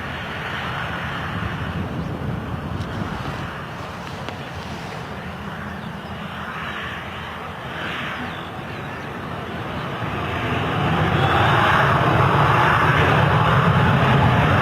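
A jet airliner at Stansted Airport rolls into a rolling-start takeoff run, its broad engine roar building steadily and swelling louder toward the end, heard from a distance.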